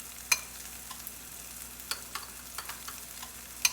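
Zucchini cooking in a pan for a tomato and zucchini flatbread, a quiet, steady sizzle with a few sharp clicks and scrapes of a utensil against the pan, no voices.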